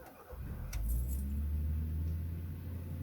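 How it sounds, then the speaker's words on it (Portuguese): A Volkswagen Saveiro Cross engine cranks and catches, then settles into a steady low idle rumble, heard up close with a faint jingle of keys near the start. "dar partida no carrinho"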